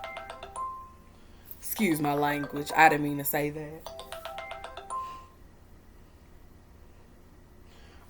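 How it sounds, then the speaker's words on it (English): A mobile phone ringtone chimes in short repeated melodic bursts before and after a stretch of close talk, then fades out as the speaking voice continues alone. "let me put my phone on silent"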